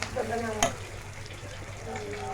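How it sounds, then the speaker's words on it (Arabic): Ingredients for Egyptian koshari stir-fried in a pan, a soft, steady sizzle with a sharp scrape or clank near the start, faint and close with no speech over it. "شوحي كله في بعضه"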